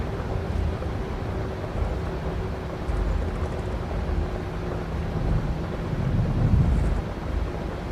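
Stormy wind in Microsoft Flight Simulator 2024 around a PMDG 737-800 just landed at Oslo, a steady broadband rumble and roar that swells a little toward the end, with no talking.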